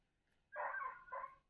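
A dog following a scent trail near hillside caves gives a short, fairly distant yelping bark in two bursts, heard alone against quiet surroundings.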